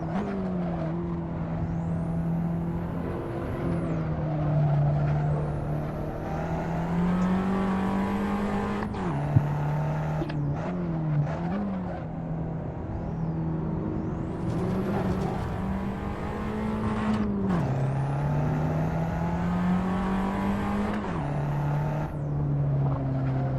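A race car in Assetto Corsa powers out of a corner, its engine droning loud and steady as it climbs through the revs. Several quick gear shifts dip and reset the pitch, and tire noise runs underneath.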